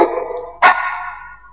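A dog lets out a short yelping bark, close and loud, after a sustained whining tone, then the sound trails off into a fading whimper.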